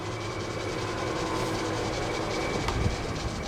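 A machine with a quiet motor and spindle bearings runs steadily inside a small building, giving a continuous even whir and rumble with a few faint clicks and no talking.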